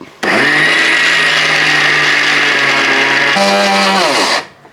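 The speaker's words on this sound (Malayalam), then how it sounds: "ഇനി എല്ലാം കൂടെ ഒന്നിച്ച് നന്നായിട്ട് പൊടിച്ചെടുക്കാം" A mixer grinder runs at full speed pulverising spices with cardamom and cumin, a loud steady whine that shifts pitch briefly near the end before cutting off.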